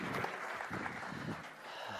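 An audience claps steadily for a couple of seconds, moderately loud and even, like a room applauding a speaker.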